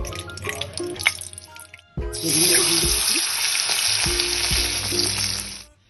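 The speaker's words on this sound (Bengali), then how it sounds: "এবার আমি মাছটাকে ভেজে নেব কড়াই আমি খুব ভালো করে গরম করে নিয়েছি এবার দেখুন আমি তেল দিয়ে দিচ্ছি" Oil goes into a well-heated wok for frying marinated fish. After a quieter start with faint clatter, a loud close sizzle bursts in and holds steady before cutting off at the end.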